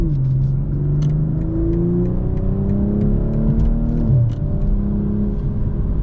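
A 2022 BMW M240i xDrive with a high-flow catted downpipe and stock exhaust revs in a close, loud run, engine note climbing and falling in repeated sweeps before dipping briefly and rising again.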